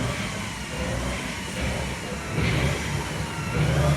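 An all-wheel-drive Honda CRX revs its engine as its wheels spin, giving a steady mid-pitched drone that swells louder twice toward the end and has no talk over it.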